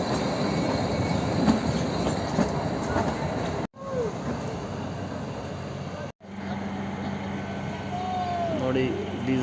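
Kalka–Shimla toy train pulled by a diesel engine departing Kalka station, steady rolling rumble with high wheel squeals and clicks, two abrupt breaks, someone speaking over it.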